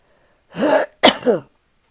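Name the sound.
throat clearing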